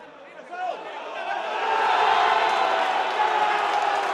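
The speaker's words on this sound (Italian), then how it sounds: "Tifosi civitanovesi in delirio" Civitanovese football fans in a stadium erupting after a late goal against Teramo, with a roaring crowd swelling in volume and sustaining loud cheers and shouts, under a commentator speaking.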